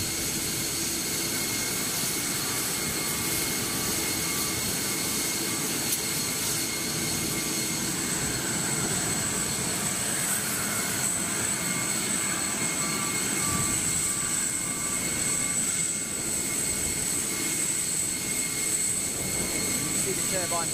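Virgin Atlantic Boeing 747 jet engines at London Heathrow Airport, a steady loud roar with a high whine running throughout the clip, with no break in the sound.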